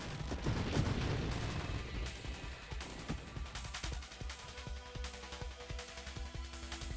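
Video game weapons fire a barrage of projectiles, starting as a dense, loud volley that thins into a rapid, regular train of sharp shots, with steady mechanical droning beneath.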